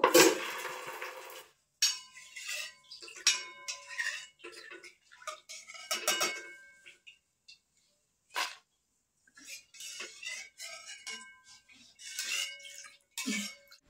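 Crispy fried nimki are lifted out of hot oil, producing scattered clinks and scraping taps of a utensil against the pan in short, irregular bursts with quiet gaps, close by and without speech.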